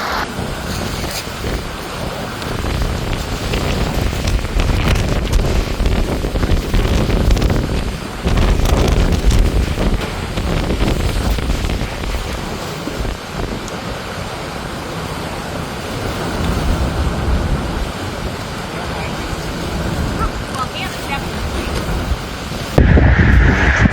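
Floodwater and an ice jam on the Mad River in Vermont make a steady, loud roar of rushing water, heavily buffeted by wind on the microphone throughout, with no talk.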